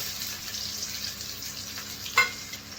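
Cumin seeds, chopped onion and two green chilies sizzle softly in hot oil in a pan, a steady low frying hiss with a brief sharper crackle near the end.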